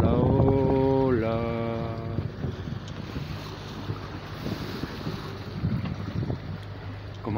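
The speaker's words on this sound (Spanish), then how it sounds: "La ola esta grande que nos viene un poco de través" Large waves breaking against a sailboat under way on open sea, with steady wind noise across the microphone and rushing water throughout. A brief harmonic voice-like tone opens the passage before the wash of sea and wind takes over.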